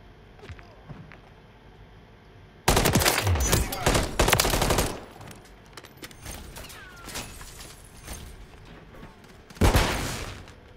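Video game gunfire: a loud burst of rapid automatic shots lasting a couple of seconds, then quieter scattered shots and another short loud volley near the end.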